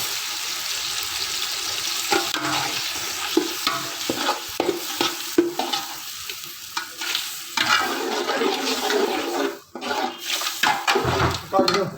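Spices are stirred and fried in a pot for chicken pulao: a steady sizzle is broken by repeated scraping, clattering stir strokes and a brief splash of liquid, all close and fairly loud.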